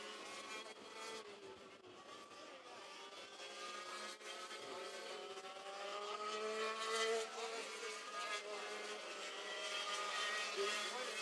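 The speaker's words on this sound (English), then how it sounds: "James White late on the brakes, closing up that gap to the second place car" Race karts at the Purdue Grand Prix whine past with engines rising and falling as they brake and accelerate through a turn, a continuous buzzing drone that grows louder while an announcer talks over it.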